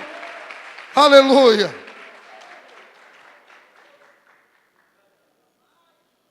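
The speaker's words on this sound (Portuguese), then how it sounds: "Quer aplaudir a Jesus? Aplauda, porque Jesus é bom." A church congregation applauds during a Portuguese-language service, with a loud shouted voice rising over the clapping for about a second before the applause thins and fades away.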